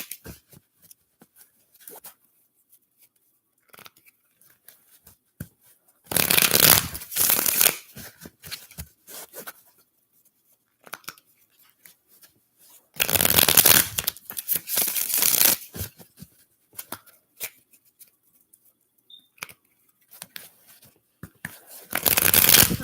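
Tarot cards shuffled by hand in two bursts of brisk riffling, close and crisp, with quiet handling sounds and small taps between them.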